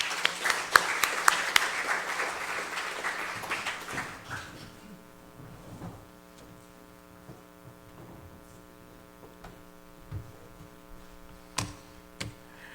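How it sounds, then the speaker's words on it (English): An audience at an Indigenous Peoples' Resistance Day forum applauds a speaker, a burst of clapping that fades after a few seconds into a quiet room with steady mains hum and a few isolated taps. "Let's give him a round of applause"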